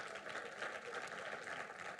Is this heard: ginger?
no